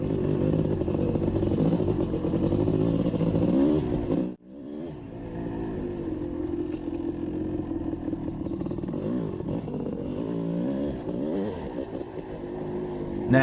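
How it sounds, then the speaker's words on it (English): A Kawasaki KX500 500cc two-stroke big-bore dirt bike engine drones and revs steadily nearby, cutting out briefly partway through before resuming its buzzing, fluctuating note. "the Kawasaki KX500 will always be the king of the big bore dirt bikes"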